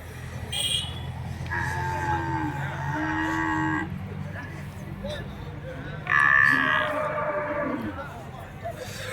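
Cattle, large bullocks at a livestock market in Bagalur near Hosur, moo loudly in long drawn-out calls, one after another, amid a busy crowd with people talking in the background.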